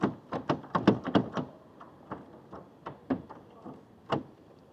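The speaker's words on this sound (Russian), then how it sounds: "Дверь не открывается." A taxi's car door is thumped and yanked repeatedly without opening, a cluster of sharp knocks and clunks in quick succession, then scattered single thumps with pauses, close by and with no talk.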